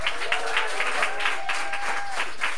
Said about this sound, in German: Vielleicht einmal Applaus für Erik an der Gitarre.